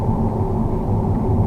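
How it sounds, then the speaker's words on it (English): From inside a second-generation Audi TT driving in the UK, the engine and intake give a loud, steady low drone that holds without a break. "I don't know if you can hear the intake noise better with the windows up or with the windows down"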